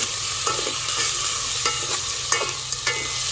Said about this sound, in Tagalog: Akin lang pong hinahalo.